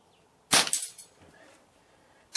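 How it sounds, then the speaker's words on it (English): Weihrauch HW97KT spring piston air rifle fires one sharp, close crack followed by a short mechanical rattle and decay, with the onset of a second shot at the very end. "It's also nice to be getting back to shooting a spring piston rifle as well"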